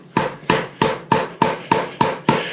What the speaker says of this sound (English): I put these ends on there so that I have something to hammer against when I go to put this on